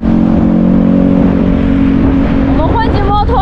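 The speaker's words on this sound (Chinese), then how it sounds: "我们汇集摩托大军一起出发了。" A pack of motorcycles pulls away together on a road in Indonesia, their engines droning steadily and loudly, with rising revs near the end as voices talk over the din.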